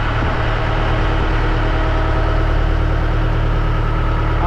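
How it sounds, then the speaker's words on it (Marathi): A boat engine runs steadily on a sea trip on the Arabian Sea off Guhagar, a loud, continuous droning hum with deep low rumble that holds constant throughout with no breaks. "या साईडला बोटीचे इंजिन आहे बघू शकता तुम्ही"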